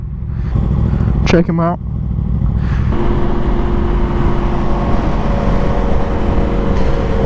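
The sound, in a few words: sportbike motorcycle riding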